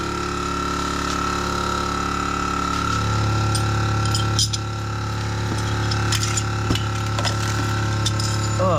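Ratchet wrenches click steadily beside a bagged 1972 Mazda with a NASCAR V8 engine, with a low hum running underneath throughout and a few sharper metallic taps in the later part.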